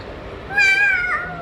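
One close cat meow, fairly loud and wavering in pitch, with faint room noise before and after.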